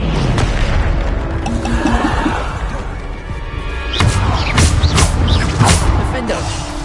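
Bombarda explosion spells in the video game Hogwarts Legacy, deep booming blasts and bursts repeating amid combat effects, with a voice calling out over them.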